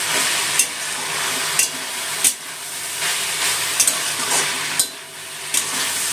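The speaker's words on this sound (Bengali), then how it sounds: "গ্যাসটা বাড়াবো, নিয়ে নিয়ে শাকটা ভাজা ভাজা করে নেবো" Water spinach (kalmi shak) fries in a pan over raised gas heat, a steady close sizzle and hiss broken by brief scraping stirs at irregular intervals, with no talking.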